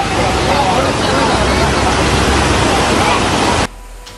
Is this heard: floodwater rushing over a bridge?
yes